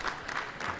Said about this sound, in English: So applause from Ferdinand as well.